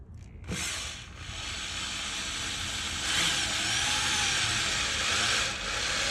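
A power drill drives a screw into wood, starting with a sharp click and then a loud continuous whirring buzz that rises slightly in pitch and strain midway before easing off near the end, with no voices.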